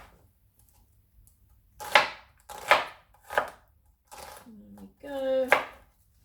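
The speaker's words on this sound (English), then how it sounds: "you can just slice it like so, and you get these lovely small pieces of onion" A knife slices through an onion into small pieces on a board, making five distinct crisp cuts spaced about a second apart, close and clear, with a few soft voiced sounds between the later strokes.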